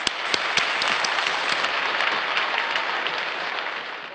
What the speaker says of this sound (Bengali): আমরা এই পর্যায়ে সকলকে পুনরায় করতালির মাধ্যমে স্বাগত জানাই।